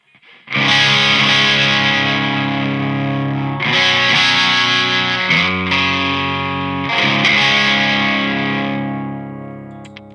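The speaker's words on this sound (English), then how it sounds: "the bass tone, the clean tone, the non-wet tone sounds a little bit like this" A sustained, dry clean bass guitar tone through a phaser pedal rings out in long held notes, re-struck a few times, with no audible echo or reverb.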